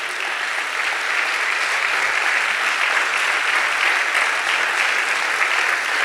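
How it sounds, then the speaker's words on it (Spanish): A church congregation claps together in sustained, even applause during a service, a thick wash of hands filling the hall at steady volume for several seconds. "Dale un aplauso al Señor."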